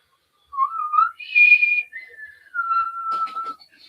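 A person whistles an imitation of an eerie night whistle from Native American mythology: a few sustained, sliding tones that rise, then step down and hold, close and clear with a breathy finish.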